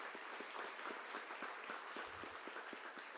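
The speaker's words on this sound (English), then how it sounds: "Let's give a round of applause for these amazing leaders." Applause from an audience at a regional education forum in San Antonio, steady dense clapping filling the room at moderate distance without pause.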